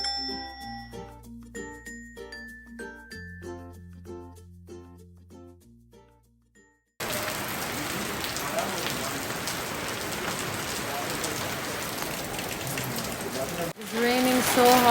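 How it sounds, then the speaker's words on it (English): Heavy rain pours steadily and loudly across the second half, beginning abruptly and running as a dense, continuous wash, after a stretch of music-box-like chiming notes; set on a trip to a waterfall. "It's raining so hard."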